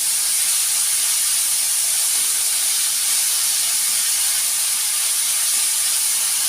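Tomatoes dropped into a pan of sautéing garlic, giving a loud, steady broadband sizzle and hiss that holds evenly from start to finish with no talk.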